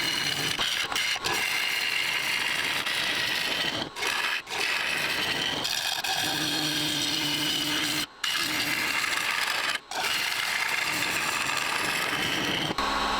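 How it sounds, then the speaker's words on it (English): Skew chisel laid on its side cutting a recess inside a cherry wood bowl on a lathe: a continuous close rasping, scraping hiss with a few brief gaps as the tool lifts off, no talk. "I'm literally just laying a skew chisel on its side to make this recess."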